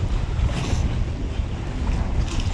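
Steady wind blowing hard across the microphone on choppy water while squid fishing at night in freezing winter cold, a loud continuous low rumble and rush with no talk.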